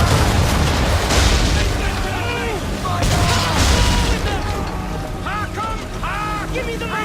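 Gunboat cannon fire and explosions in the video game Assassin's Creed III: heavy booms and rumbling blasts roll through a dense battle mix, with voices shouting over the cannonade.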